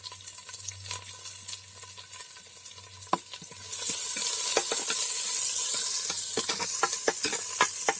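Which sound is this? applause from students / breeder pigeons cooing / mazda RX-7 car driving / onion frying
onion frying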